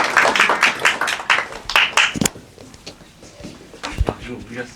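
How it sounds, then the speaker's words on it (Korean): Audience claps after a student's thesis presentation at a Korean school, a burst of applause lasting about two seconds, then fading into quieter room noise with a few scattered sounds. "박수 보내주셨습니다"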